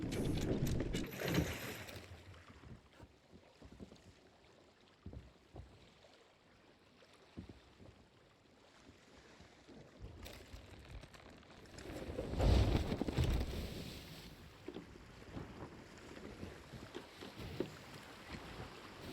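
A ship setting sail after its anchor is raised in Dark Souls: soft, airy wind and water wash that swells in two louder surges, early on and again near the middle, with a low rumble of creaking motion.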